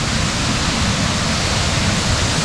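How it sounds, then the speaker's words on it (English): A waterfall near a lily pond at Goa Gajah temple in Ubud, Bali, pours with a steady, dense roar of rushing water, loud and close, with no voices. "just down from the lily pond is another waterfall"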